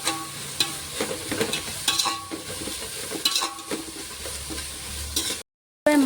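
Onions and green chilies frying in oil until golden brown, a steady close sizzle broken by scrapes and clatters of a stirring spoon, ending in a brief gap of silence.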